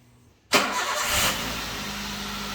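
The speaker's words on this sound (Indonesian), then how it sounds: "Coba ini nyalakan mesinnya." A used car at a dealership, said to have survived a flood, cranks and fires up abruptly, then settles into a steady, loud idle close by with no talking.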